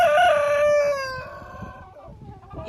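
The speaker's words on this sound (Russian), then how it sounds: "Этот петух помесный с амерауканом, еще от моих петушков, которые у меня были." An old Araucana-cross rooster gives a loud, close crow alone, a long drawn-out call that trails off over about two seconds.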